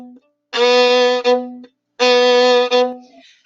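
A bowed string instrument plays two detached, lifted strokes with rests between, the bow leaving the string after each short eighth-note figure, clear and close with no talking.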